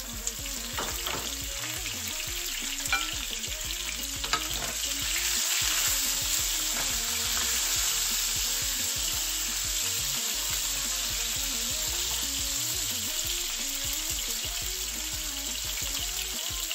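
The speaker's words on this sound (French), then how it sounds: "Ensuite, je vais cuire mes poivrons." Bell peppers fry in hot oil in a pan, giving a steady, close sizzle that holds at an even loudness with faint stirring scrapes throughout.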